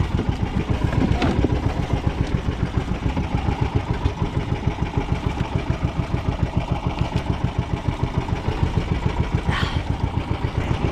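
A boat engine runs steadily out at sea, a throbbing low mechanical rumble with a fast regular pulse, loud and close throughout, with faint voices briefly in the background.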